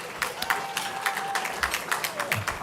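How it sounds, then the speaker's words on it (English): Audience applause at the Lincoln Day Dinner 2017, a crowd of diners clapping steadily with scattered sharp claps and a faint voice underneath. "give everybody a round of applause"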